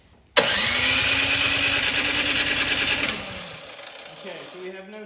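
A Troy-bilt snow blower engine, model 31AM6CP3, with a suspected carburetor fault, cranks steadily and loudly for about three seconds in a fast, even chugging rhythm, then winds down without catching.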